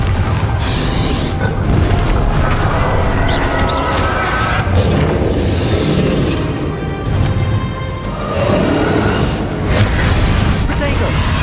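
Confringo fire spell blasts in the Hogwarts Legacy video game, dense booming impacts and crashing bursts filling a loud, busy game-combat mix with a voice running over them throughout.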